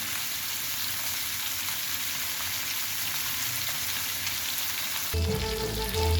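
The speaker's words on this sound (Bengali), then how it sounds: "এখন আমি সম্বারা দিয়ে দিয়েছি" Spices for tempering crackle and sizzle steadily in hot oil for a fish curry with potatoes, potol and taro; the frying hiss swells louder and rougher near the end as more goes into the pan.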